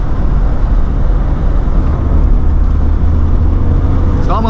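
A Mercedes 500SL with its muffler removed roars loudly and continuously close by, a deep, raw engine drone holding steady with a slight rise in revs, and no voices over it.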